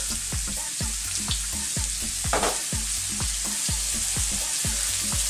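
Finely chopped garlic and onion with salt fry on fairly high heat in a pan: a constant close sizzle punctuated by regular rhythmic knocks and scrapes of a stirring utensil roughly twice per second.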